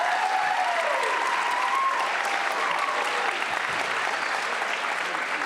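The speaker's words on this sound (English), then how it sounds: "Can we give our panel a nice round of applause?" A room full of people at a college and career event applauds a panel, a dense, steady wash of clapping that holds at an even level throughout.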